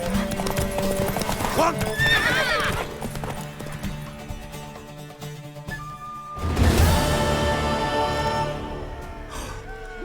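Horse hooves clip-clop steadily in The Witcher 3 while a mare whinnies and snorts, set against game music and voices talking over the action.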